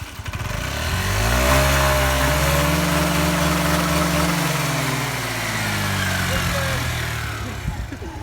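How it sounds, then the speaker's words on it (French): Four-stroke Peugeot Zip scooter engine revs up and holds a high, steady drone before easing back, loud and close throughout. "là on va passer au 4 temps. Bon c'est pas le même bruit mais ça va, c'est un beau bruit"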